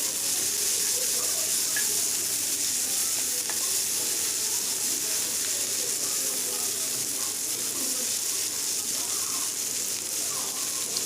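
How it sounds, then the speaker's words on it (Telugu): Onions, green chilies and finely chopped fenugreek leaves frying together in a pan while being stirred: a steady, dense sizzle with faint scraping of a spoon, continuing evenly throughout. "వేసుకొని అన్నిటిని ఒకసారి అంతా బాగా కలుపుకోవాలి"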